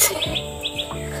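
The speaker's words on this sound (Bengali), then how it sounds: "হরিণের সংখ্যা এত, পাখি ডাকছে।" Birds calling in a spring forest on Nijhum Dwip island, Bangladesh, a few quick chirps over a faint background hum, short and fairly close.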